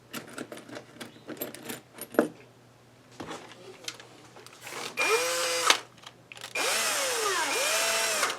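A power drill bores into a cheap Temu Strat-style guitar body: a few clatters of handling come first, then two loud, close, sustained whining bursts as the bit spins up and cuts. No one speaks.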